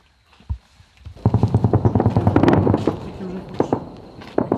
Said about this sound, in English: The sounds of machine gun fire and rocket launchers are sometimes cut short by the whistle and explosion of mortar projectiles.